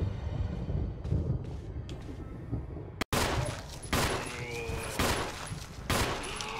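Gunshots in Resident Evil on Switch: after a quieter ambient lead-in, a sudden sharp crack is followed by several more loud shots spaced about a second apart, with echoing game ambience between them.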